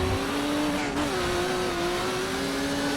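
A BMW 320 IMSA GTO race car at Sebring in rFactor 2 brakes for a corner, its engine note dropping and then holding a steady drone after a quick downshift into second, loud and close.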